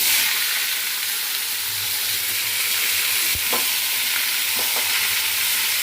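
Mixed vegetables including potato, pointed gourd, cucumber and taro hit a hot spice tempering of bay leaf and green chilli, a loud, steady close-up sizzle with a few soft knocks of stirring.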